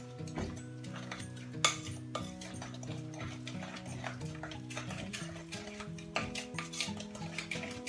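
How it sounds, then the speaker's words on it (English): A spoon stirs beaten egg into creamed butter and sugar in a bowl for oatmeal cookies, making repeated soft clinks and scrapes against the bowl with a couple of sharper knocks. "whack in that beaten egg. Give it a stir."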